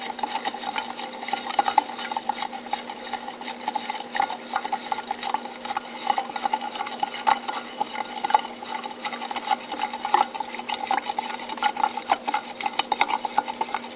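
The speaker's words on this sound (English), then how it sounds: "So make sure you guys are stirring this." Liquid being stirred steadily for a temperature experiment, a continuous scraping, clinking churn with an unbroken rhythm and a steady hum underneath, moderately close and alone without voices.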